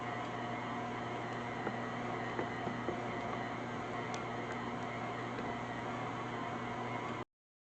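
Stand mixer kneading homemade bread dough for honey buns, giving a steady, continuous motor whir with a constant hum and faint rhythmic clicks throughout, no voices.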